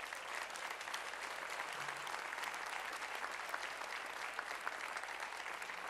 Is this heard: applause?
yes